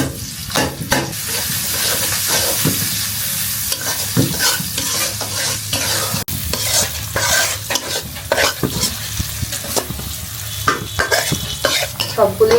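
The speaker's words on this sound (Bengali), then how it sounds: "আমি হচ্ছে তেল দিয়ে দিলাম ফার্স্টে, শাকটা বাগার দেব, হচ্ছে কাঁচামরিচ, রসুন আর হচ্ছে পেঁয়াজ দিয়ে দিচ্ছি" Green chili, garlic and onion fry in hot oil in a pan, a loud, close sizzle broken by frequent clattering stirs and scrapes of a utensil against the metal.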